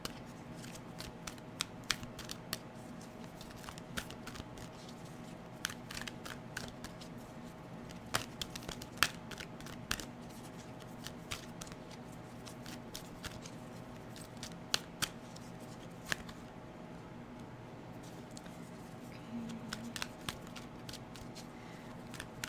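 Oracle cards being shuffled by hand, producing faint, scattered crisp snaps and flutters at an irregular pace against a quiet background with a low steady hum.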